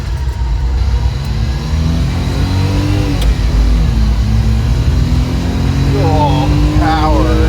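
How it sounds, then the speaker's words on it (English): A 1997 Daihatsu Hijet S110P mini truck on 155R12 tires with a 3-inch lift and two people aboard, its engine droning loudly and pulling through third gear at low speed, with a rising pitch near the end. "Already in 3rd gear at 15 kilometers per hour."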